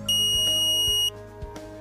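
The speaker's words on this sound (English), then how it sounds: "you will hear a long beep." A smart lock gives a long, steady electronic beep after its battery pack is installed, loud and close for about a second, followed by faint clicks.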